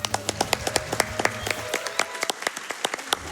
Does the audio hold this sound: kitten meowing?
no